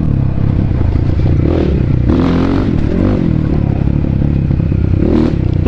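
BSE Z7 motorcycle engine revving under way, a sharp, loud exhaust rising and falling in several surges with rattly clatter and wind rush throughout, no voices over it.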